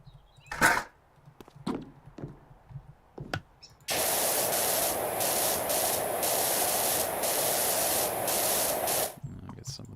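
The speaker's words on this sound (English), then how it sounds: "we're gonna be using a lot of that multi-purpose cleaner" Pressure washer spraying multi-purpose cleaner in the video game PowerWash Simulator, a loud continuous hissing jet lasting about five seconds with brief flutters, preceded by scattered small clicks and knocks, no talking.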